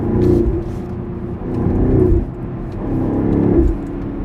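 A BMW X6 M50i's exhaust rumbles loud and deep as the engine surges and eases in repeated swells, a throaty drone rising and falling over a few seconds with no talk.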